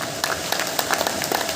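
An audience claps loudly together at an event in Hindi, a dense crowd applause continuing without a break.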